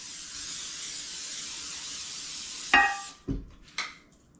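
Olive oil sprays into a baking dish in a steady, close hiss for nearly three seconds, followed by a few clunks as the dish is handled.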